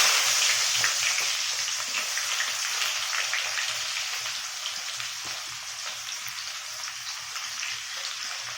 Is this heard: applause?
no